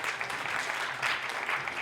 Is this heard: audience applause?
yes